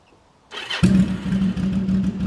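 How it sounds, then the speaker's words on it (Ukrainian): A Yamaha Drag Star 1100 motorcycle engine starts up and settles into a loud, steady, throaty idle with a rumbling exhaust, close by. "ну це реально саме гучний мотоцикл"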